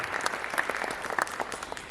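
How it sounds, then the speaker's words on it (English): Audience applauding teachers at a chairman's address, a dense, even spatter of many hands clapping at moderate loudness, with no talking. "If you can encourage them by giving a round of applause for their hard work"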